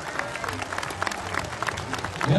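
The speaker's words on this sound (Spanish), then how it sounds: "un aplauso fuerte para nuestras autoridades llevando a cabo el acto de clausura" A crowd at the closing ceremony of the Expo Huitzuco 2011 fair claps for local authorities, a moderate, somewhat distant wash of hands with uneven swells and some murmuring beneath.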